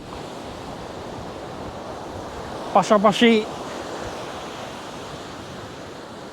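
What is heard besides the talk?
sea waves at Jamtola sea beach, Sundarban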